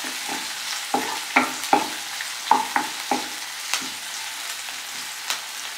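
Onion and chili frying in a pan, a low steady sizzle broken by a regular series of spatula scrapes and taps, close up with no talk.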